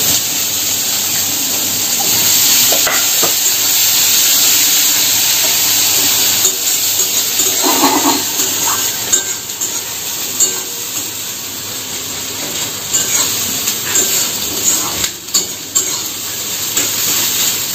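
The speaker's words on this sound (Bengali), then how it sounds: "পেঁয়াজটা একটু লাল লাল করে ভাজা হবে, তারপরে টমেটোটা দেবো।" Onions frying in oil with nigella seeds and dried red chilli for a Bengali fish curry, a loud continuous hiss close by that breaks later into irregular pops and crackles, with no speech.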